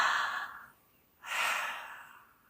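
Slow, deep breathing close up: a long airy exhale fades out, a brief pause follows, then another full breath swells and slowly tapers away.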